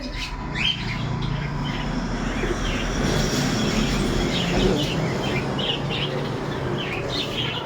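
Caged pigeons and other birds at a Serampore pet shop make scattered chirps and calls over a constant low rumbling hum of the surroundings, moderately close.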